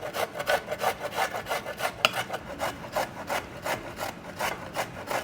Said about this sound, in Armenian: Գազարը ձոլկում եմ։